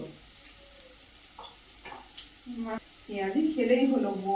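Onion fritters fry in hot oil in a pan, hissing and crackling close by. The sizzle turns louder near the end, with a few light stirring knocks and voices talking at times.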